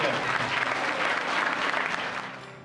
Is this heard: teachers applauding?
yes